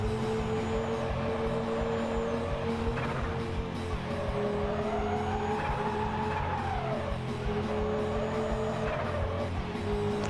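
A car drifting in a racing video game: a steady engine hum runs underneath while a tire squeal rises and falls in a long arc through the middle, with brief skidding bursts around it.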